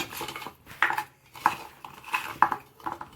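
Oil being mixed into paya curry in a pan, heard as a short series of close metal scrapes and clinks from a spoon against the pan.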